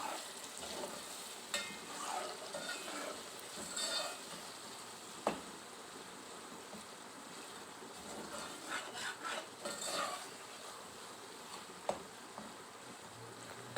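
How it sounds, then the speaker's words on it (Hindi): Spice masala with tomatoes for an aloo gajar matar methi sabzi frying in a pan, a faint steady sizzle with occasional soft stirring scrapes and light knocks, no talking. "हमारा मसाला जो है फ्राई हो रहा है।"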